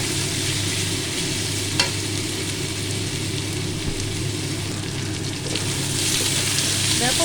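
Grated ginger fries in oil in a pan, a loud, continuous close-up sizzle with faint stirring scrapes and a few small clicks, no voice over it.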